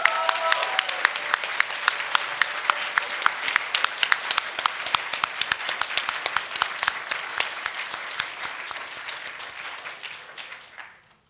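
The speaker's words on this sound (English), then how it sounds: "Please give a round of applause for these individuals." Applause from the audience at a university Asian American awards ceremony honoring nominees, crisp individual claps rising into a full round that gradually thins and fades out near the end.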